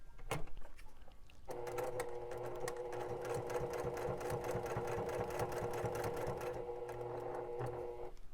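A sewing machine stitches a hiking water bottle holder in a fast, steady whir that starts after a brief pause and runs continuously near and loud to the end.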